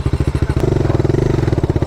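A Bajaj Dominar 400 motorcycle passes close by, its single-cylinder engine thumping in a fast, even pulse that quickens slightly midway, loud and unaccompanied by talk.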